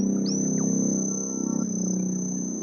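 A steady, high-pitched cricket-like chirp sample runs throughout a drill beat made in Logic Pro, sitting above a low sustained bass tone that shifts partway through.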